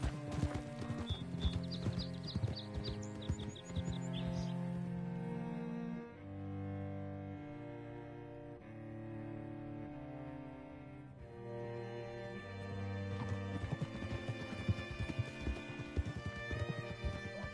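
Horse hooves clip-clopping at a steady walking rhythm in Red Dead Redemption 2, heard close and moderately loud beneath a continuous orchestral music score.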